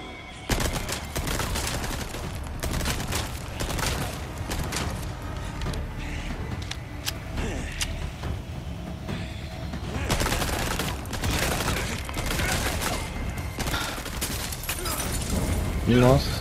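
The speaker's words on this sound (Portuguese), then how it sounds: "Nossa, atira pra caramba" Rapid bursts of gunfire from the PS5 game Resident Evil 4 Remake, in the Krauser versus Leon fight, crackle almost continuously with booming hits while a voice talks over the action.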